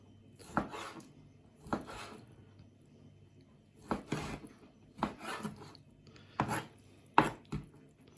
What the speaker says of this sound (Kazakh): турап аламыз тоже.